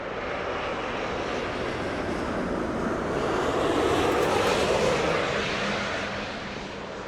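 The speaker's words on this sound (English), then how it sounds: "It was a big jet." A large jet airliner passes overhead as a loud, steady broadband engine roar that swells toward the middle and eases slightly at the end, with no talking.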